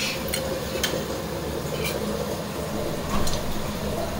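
Onions being stirred in a cooking pan for chilli paneer: a constant frying hiss with occasional light scrapes and clinks of the spoon against the pan.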